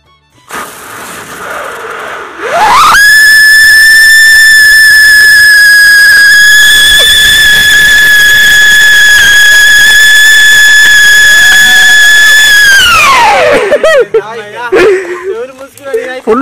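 A siren firecracker set off at night whistles loudly, a sustained bright shriek that rises in, holds steady for about ten seconds and then drops away, followed by crackling bursts and brief voices.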